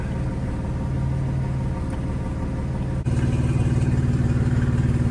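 BMW G80 M3 Competition engine and exhaust, a steady low idle-like drone that steps up to a louder, deeper throb partway through, close and alone.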